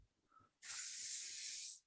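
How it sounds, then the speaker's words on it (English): A steady, bright spray hiss sound effect runs for just over a second, loud and alone after a faint short tone. "Oh, spraying."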